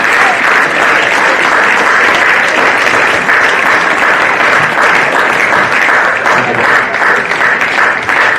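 Sustained crowd applause at a girls' under-18 football grand final between Ainslie Football Club and the Magpies, a dense, steady wash of clapping filling the whole stretch without a break.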